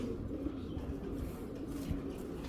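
Pigeons coo faintly in a low, continuous murmur under a steady background hiss, with no one talking.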